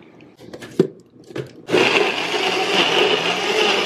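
A blender whirs loudly and steadily through a peanut butter, honey and oat milk smoothie, starting abruptly after a few soft clicks and knocks and running continuously to the end.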